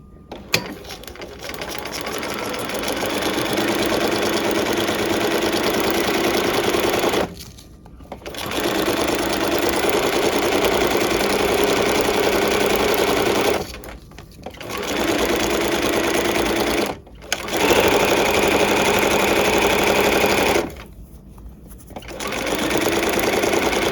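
A sewing machine fitted with a quilting foot stitches side seams at a short stitch length, whirring loud and close in long runs broken by four brief pauses.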